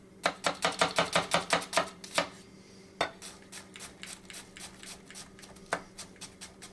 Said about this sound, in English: do a quick dice of the onion